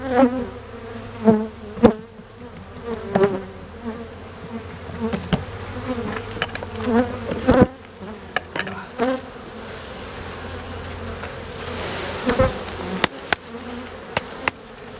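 A steady, droning hum of many honeybees at the hive fills the air, close and continuous, with occasional louder buzzes as individual insects pass nearby.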